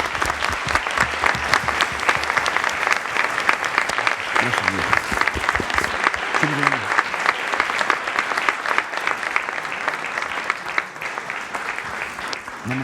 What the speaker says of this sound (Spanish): Les pido un último y muy fuerte aplauso para ambos invitados.